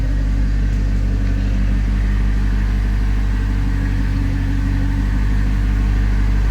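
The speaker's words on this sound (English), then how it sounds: "Sounds pretty good for a little 215 V8." A 1973 Chevrolet Vega fitted with a 215 V8 runs steadily close by, giving a loud, deep rumbling idle with a throbbing low pulse and no voices over it.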